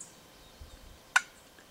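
One short, raspy yelp from a scratch box call imitating a turkey hen, sounding once in an otherwise quiet stretch.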